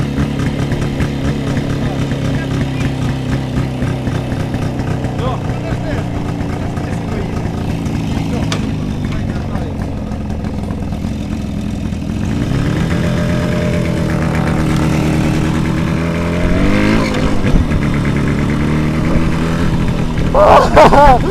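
A Jawa motorcycle engine runs steadily at idle with a low drone, then revs up and down later on, loud and close. People talk briefly over it.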